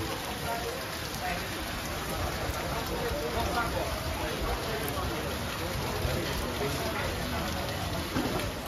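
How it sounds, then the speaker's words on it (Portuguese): Heavy rain pours steadily at a rain prophets gathering in Quixadá, Ceará, a dense continuous hiss throughout with faint voices underneath. "É chuva muito aqui."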